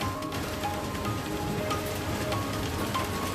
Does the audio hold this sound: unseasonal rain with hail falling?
yes